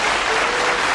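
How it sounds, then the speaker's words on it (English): Studio audience on the 1981 game show Bullseye breaks into steady, dense applause, a close and continuous wash of many hands clapping with no voices on top. "Give him a nice warm applause"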